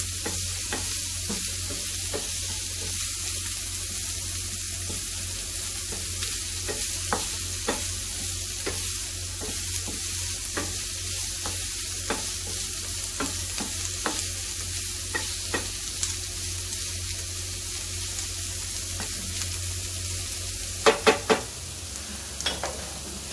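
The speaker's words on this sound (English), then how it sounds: "just gonna saute them up a little bit" Ingredients for a fish stew saute in oil in a pan, giving a steady, even sizzle throughout with scattered soft scrapes and taps of stirring and a few sharper clicks near the end.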